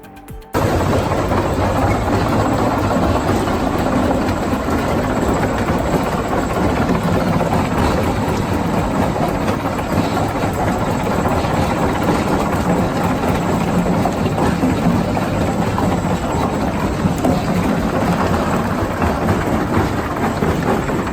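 Industrial metal shredder with crushers spinning at 1,800 rpm, a loud continuous grinding roar with rattling impacts, sustained and close after a brief quiet start.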